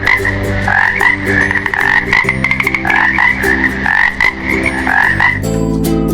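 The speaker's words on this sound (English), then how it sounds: "Frog." Loud, rhythmic frog croaking repeats steadily throughout, close and continuous with no other voices.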